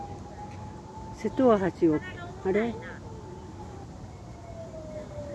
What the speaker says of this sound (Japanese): サイレン鳴らして瀬戸大橋を渡っとるのはなんで